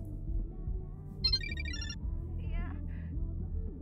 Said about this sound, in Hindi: फिर से फोन आ गया